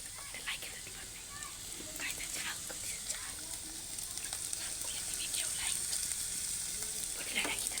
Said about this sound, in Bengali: এখন আমরা তেল দিয়ে ওই সিদ্ধ করা পটলের ছালটাকে ভেজে নিয়েছি